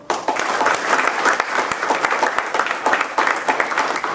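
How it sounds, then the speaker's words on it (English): Audience applause at a military retirement ceremony, a steady dense burst of many hands clapping that fills the space and continues evenly from start to finish. "Another round of applause."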